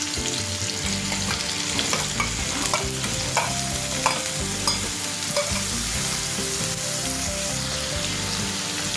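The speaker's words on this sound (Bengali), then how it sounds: "এবার এই তেলের মধ্যে আমি আলু আর গাজরটাকে ভেজে নেব।" Potatoes and carrots fry and get stirred in hot oil, a steady, loud sizzle with repeated scraping strokes of the spoon throughout, no voices.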